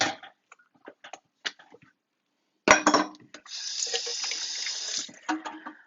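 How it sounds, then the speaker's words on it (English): Water runs from a tap into a bowl of cornbread mix, preceded by scattered clinks and kitchen handling, then a steady close splashing stream for a few seconds before tapering off. "put a little bit of water in that, just so there's an evenness about it."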